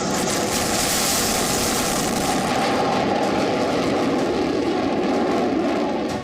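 Indian Air Force fighter jets fly during a war exercise, giving a loud, steady, broadband jet-engine roar that fills the whole stretch without a break.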